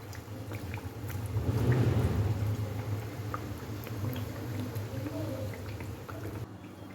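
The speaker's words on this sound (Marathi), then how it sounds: "फक्त आपली कचोरी बुडेल एवढंच तेल घालायचं आणि तळून घ्यायच्या" Kachori deep-frying in hot oil over a low flame, a steady soft bubbling sizzle that swells early and then holds evenly, close by with no talk.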